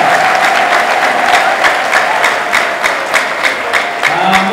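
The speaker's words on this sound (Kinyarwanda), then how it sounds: "Muyikomera amashyi akagerwa ku mashyi" Steady, dense applause from a church congregation fills the whole stretch, loud and close with sharp individual claps standing out from the sustained wash, ringing in a reverberant hall.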